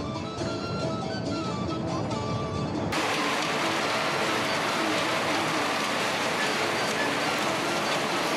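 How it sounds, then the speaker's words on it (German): Rain falls steadily in Romania during a solo bicycle trip, first as a softer patter and then as a sudden, louder, dense rush of rain that continues without a break. "Als der Regen leichter wurde"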